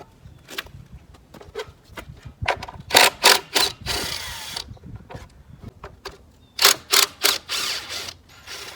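A ratchet wrench clicks in quick bursts while backing bolts out of the top shroud of a Cub Cadet LTX 1045 hydrostatic riding mower, with short pauses and rattling between runs.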